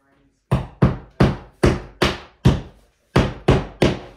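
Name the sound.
hammering drywall anchors into the wall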